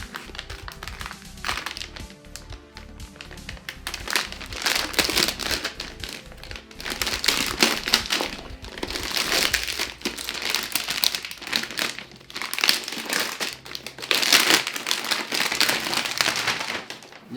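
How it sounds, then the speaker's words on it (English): Protective plastic film peeled and crumpled off a new Huion Kamvas GT-191 V2 pen display tablet, close up, with continuous loud crinkling and crackling in bursts and no talk. "I'll take off this coating"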